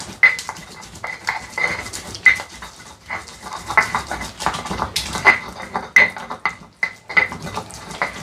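Dried chilies being ground in a stone mortar and pestle, with repeated grinding scrapes and knocking taps in an uneven rhythm, close and moderately loud.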